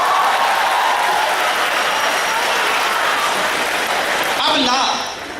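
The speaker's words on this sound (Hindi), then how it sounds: "तालियां कम उठी हैं आपकी," Applause from a lecture audience fills the clip as a loud, dense, steady wash of clapping. It thins near the end as a voice cuts in.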